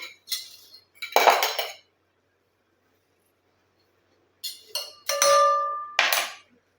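Metal utensils clinking against a pot while homemade hair oil is strained through a filter: a few sharp clinks and scrapes in two clusters separated by a long quiet pause, close and fairly loud.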